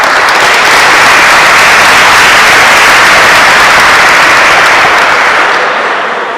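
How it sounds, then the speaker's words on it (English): A crowd applauds Chris Martinez at a Hispanic Heritage Month opening ceremony in Cleveland City Hall, loud continuous clapping from many people that stays thick and even before tapering off and cutting out at the end. "let's give Chris another round of applause"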